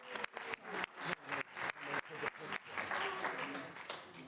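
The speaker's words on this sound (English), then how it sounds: "How about another round of applause?" At a town board meeting, a room of attendees claps in a brief round, starting with sharp, spaced hand claps that thicken into a fuller burst of applause, with voices murmuring underneath.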